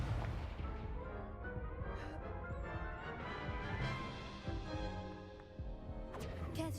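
A Confringo spell blast in Hogwarts Legacy: a dense, booming explosion rumbles under swelling orchestral game music, loud and continuous, with a few sharper impacts near the end.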